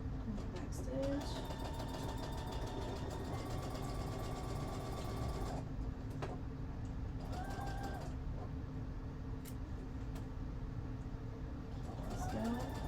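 A sewing machine runs in a steady, close, continuous whir while back stitching fabric for a shirt, pausing briefly midway before the motor starts again.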